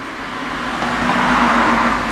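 A Ford SVT Lightning pickup's engine settles into a steady, loud rumbling idle with a broad continuous roar that swells slightly as it runs.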